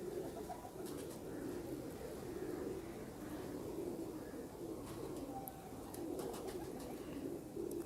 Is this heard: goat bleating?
no